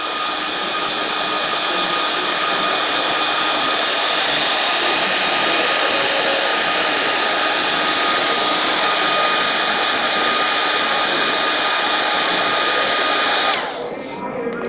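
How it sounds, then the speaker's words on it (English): A heat gun blows steadily while heat-setting paint on an outdoor patchwork project, a loud, even airy roar that runs unbroken until it cuts off near the end, with no talking. "So let's heat set that just a little there."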